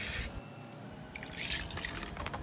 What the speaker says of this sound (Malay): Toskan airnya, buat seketika sehingga tiada lagi air yang menitis.